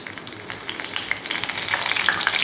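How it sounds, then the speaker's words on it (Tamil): Mustard seeds and a sprig of curry leaves sizzle and crackle in hot oil, with dense popping that grows slightly louder and close up, and no voices. "நல்லா பொரியட்டும் கடுகு"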